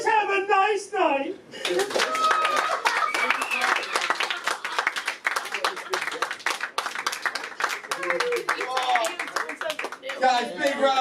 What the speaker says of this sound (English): big round of applause for Paradise Tim Dillon.